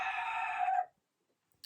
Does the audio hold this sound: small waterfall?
no